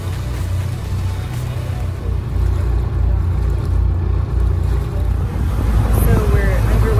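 A boat underway on a lake makes a steady low engine rumble under strong wind buffeting the microphone, with water rushing alongside. The sound is loud and continuous.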